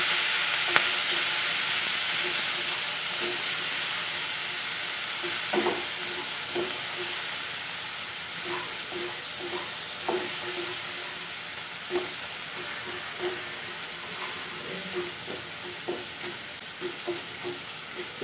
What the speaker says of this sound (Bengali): এই পেঁয়াজ রসুন বাটা দিয়ে দেবো।